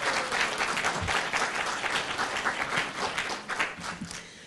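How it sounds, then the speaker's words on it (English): An audience applauds the planning committee at the opening ceremony of a Model African Union conference, a steady, dense wash of clapping from a large crowd that holds throughout and eases slightly at the end. "Please give them a round of applause for all the work that they've done."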